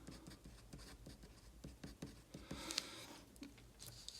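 Pen scratching out notes on a paper circuit diagram of an HP 67 calculator voltage regulator, a close, quiet run of short rhythmic strokes with brief pauses and no talk.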